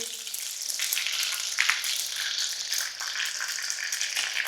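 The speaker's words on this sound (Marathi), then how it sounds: "मोहरी तडतडली की हिरवी मिरची" Steady, loud sizzling of green chilies frying in hot oil with spluttering mustard seeds, a dense crackling hiss that carries on without a break.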